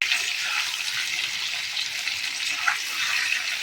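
Potatoes drop into hot oil tempered with sugar, black pepper and bay leaf, giving a bright, hissing sizzle that holds steady and close, with small crackles and spits.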